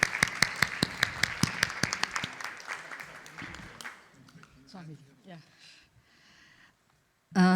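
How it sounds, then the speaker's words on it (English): A crowd at a felicitation and dinner event gives a round of applause for a Swami: dense, lively clapping for about four seconds that fades out, followed by scattered quieter voices and room sounds. "Big round of applause for Swamiji, please."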